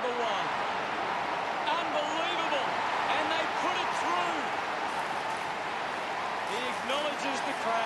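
Big AFL stadium crowd at an Essendon Bombers versus Collingwood match roars continuously after a goal is kicked, a dense sustained wall of cheering with whistles and shouts rising through it.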